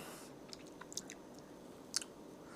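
Quiet, close chewing of durian cheesecake, soft moist mastication with a few sharper crunchy bites standing out, no talk.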